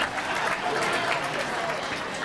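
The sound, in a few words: audience clapping for the 2-Minute Brothers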